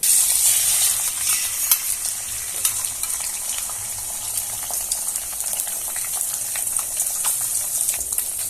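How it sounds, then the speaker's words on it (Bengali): Steady crackling sizzle of an egg frying in hot oil, with soft stirring scrapes, continuous and close with no voices. "এবার ডিমটা ভেজে নেবে"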